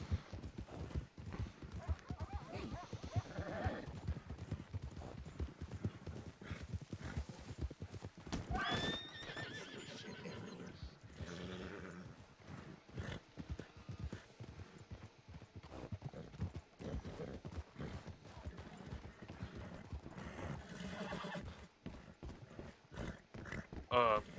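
Steady clip-clop of horse hooves in a video game with occasional whinnies, continuing throughout, with soft voices talking intermittently in the background.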